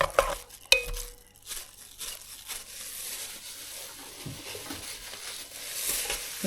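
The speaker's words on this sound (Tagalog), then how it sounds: "Haluin mabuti." Cassava cake batter with melted butter is stirred in a bowl, soft scraping and swishing strokes after a few sharp clinks of utensil on the rim, moderately quiet and close, no talking.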